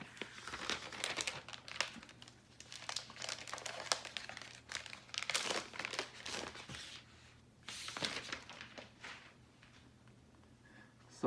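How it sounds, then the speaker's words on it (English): Thin plastic wrap being peeled and crinkled off a new 2020 Apple iPad Pro 12.9-inch, in quiet, close, irregular rustling bursts over a faint steady hum. "So let me unwrap it for you."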